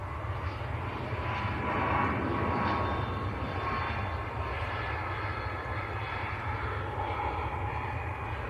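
An airliner rolls along a soaked runway at Manchester Airport, throwing up spray, its engines a broad, steady roar heard at a distance, swelling slightly and then holding level.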